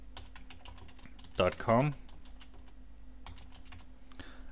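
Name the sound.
typing a website address on a computer keyboard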